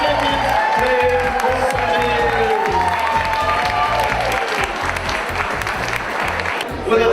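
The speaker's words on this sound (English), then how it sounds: "A big round of applause for our 2009 Open Women Champions" A crowd applauds and cheers for the 2009 open women's champion team at a Takapuna race event, with steady dense clapping and occasional whoops throughout, under a loud amplified announcer's voice.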